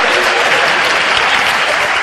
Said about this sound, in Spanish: Fuerte aplauso para ese hombre que me está animando la tarde.